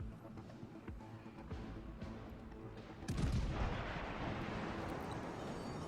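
Main turrets of the battleship Bayern in World of Warships: Legends fire in a heavy booming salvo, with earlier distant thuds before the big blast, then a rumbling roar that trails off.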